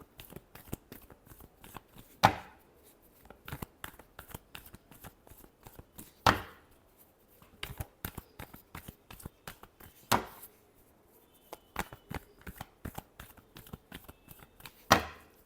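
Tarot cards being shuffled by hand, crisp riffling clicks and dense papery flutters repeating in bursts with sharper slaps every few seconds, close and fairly quiet with no talking.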